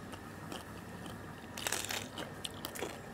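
Crispy Thai-style pork belly is bitten and chewed close up, giving a cluster of crisp crunches that grow louder midway over a faint steady background, with no talk.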